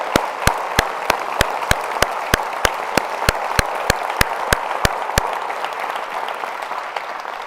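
A university crowd at a State of the University address gives loud, sustained applause, with sharp, evenly spaced rhythmic claps over the general clapping that stop partway through while the broader applause continues.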